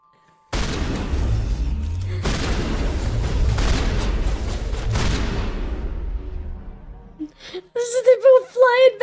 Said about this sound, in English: It was the shotgun noise, but it was with the pistol.